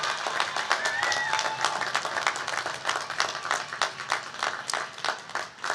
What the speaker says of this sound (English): one final round of applause to our graduates